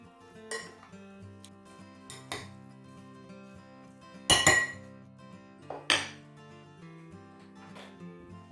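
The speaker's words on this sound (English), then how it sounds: "And we're just going to give that a good mix up." A spoon clinks and scrapes against a bowl while gazpacho soup is mixed with extra virgin olive oil, a few sharp scattered metallic knocks with quiet gaps between them.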